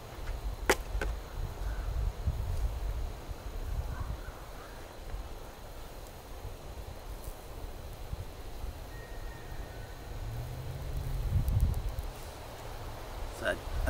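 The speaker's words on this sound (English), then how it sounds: "Still is very windy." Strong wind buffets and rumbles continuously around an outdoor Swedish torch fire, with gusting low roar and rustling throughout, loudest near the end.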